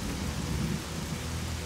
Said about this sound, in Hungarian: Hogy néz így ki a vihar. Villámlás.